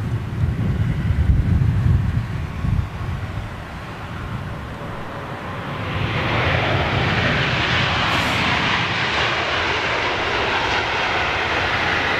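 An airliner taxis at a London airport, its jet engines a broad steady roar with low rumble and wind buffeting, the whine brightening and swelling about halfway through.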